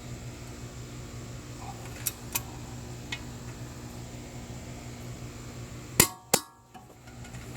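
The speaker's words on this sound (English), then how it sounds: "we're just going to go ahead and start torquing these" Torque wrench on the bolts of a Chevy Cruze driver's side CV axle, with a few light ticks followed by two sharp, loud metallic clicks near the end over a low steady hum.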